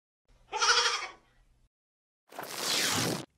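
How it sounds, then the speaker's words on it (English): A goat gives one close, clear, wavering bleat. After a pause a breathy, noisy rush follows. "G is for goat."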